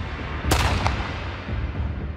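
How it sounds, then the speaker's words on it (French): A single sharp gunshot cracks out near the middle, standing alone over a low rumbling background. "J'ai entendu un coup de feu,"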